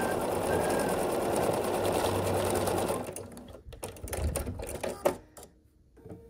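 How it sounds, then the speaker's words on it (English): Sewing machine stitching fabric strips for a scrappy sampler quilt block, a steady fast-running hum for about three seconds that then stops, followed by soft handling noises and light clicks. "So I'm going to start sewing that."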